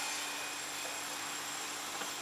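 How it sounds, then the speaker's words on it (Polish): A mobile crane works at a railway station construction site, dismantling another crane, heard as a steady, fairly faint mechanical drone and hum with constant broadband noise and a low engine rumble. "Jesteśmy świadkami przemieszczania dźwigu."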